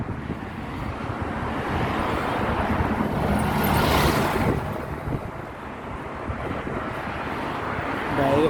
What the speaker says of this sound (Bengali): বাইরে প্রচন্ড হাওয়া